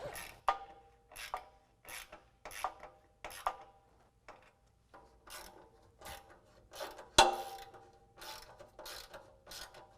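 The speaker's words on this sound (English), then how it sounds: "tighten down the nut side with a 1/2 inch ratchet" A 1/2 inch ratchet clicks repeatedly while tightening nuts on a Fab Fours front bumper bolted onto a 2018 Jeep JL, short bursts of pawl ratcheting in a steady rhythm with a sharp metallic knock midway, close and fairly quiet.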